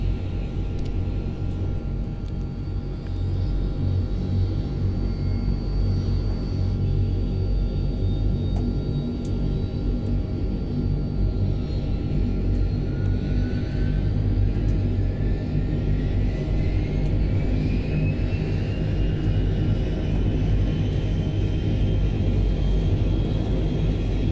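A DHC-7 turboprop engine spins up in Microsoft Flight Simulator 2020, a steady loud rumbling drone with a rising whine that climbs gradually in pitch over the whole stretch, with no voices.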